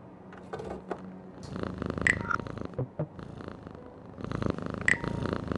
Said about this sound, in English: There's a cat up there by an open window,